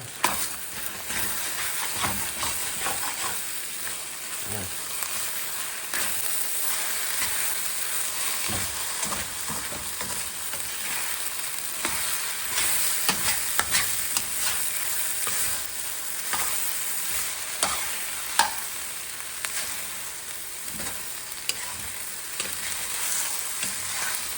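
Egg and fried rice sizzle and crackle steadily in a hot pan, with scraping and stirring strokes breaking through the loud, continuous frying hiss; no one speaks.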